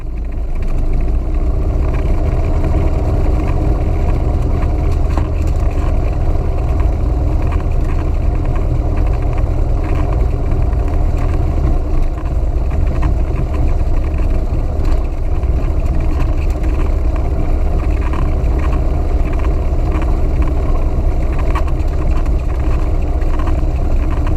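Small airplane engine running steadily at low power while taxiing after landing along a runway exit and taxiway, a continuous loud droning hum with no speech.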